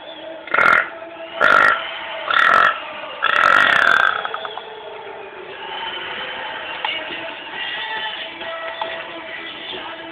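Four loud, drawn-out burps come one after another in the first four seconds, the last the longest, followed by a quieter stretch of room noise with faint background sounds.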